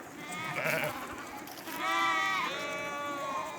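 Sheep and lambs bleat repeatedly on a highland pasture in Tokat, close and loud, their calls overlapping in several wavering cries.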